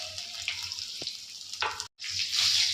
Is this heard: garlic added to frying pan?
yes